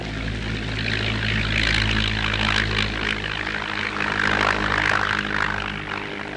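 A de Havilland Beaver propeller aircraft runs its engine at Depot 280 on the edge of the Antarctic Polar Plateau during the 1958 South Pole expedition, a steady loud droning roar with a low throbbing hum, close and continuous.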